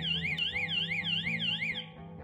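An alarm output triggered from the MultiBox smartphone app sounds a loud, steady electronic siren that sweeps up and down in repeated rising-and-falling cycles, alone for about two seconds before it cuts off.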